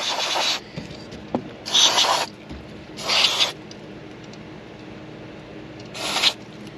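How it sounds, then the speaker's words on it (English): Four short hissing aerosol sprays of contact cleaner onto radio connectors in a 2000 Jeep Cherokee, each lasting about half a second to a second, separated by pauses, close by with no talking. "I'm just going to spray the connectors with some contact cleaner"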